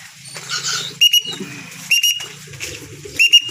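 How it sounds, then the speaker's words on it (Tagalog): A handler blows a whistle for pigeons during feeding time, sounding three short, sharp, high blasts spaced about a second apart over rustling and fluttering noises. "hanapin lang natin yung pito natin. Ito ko na yung pito."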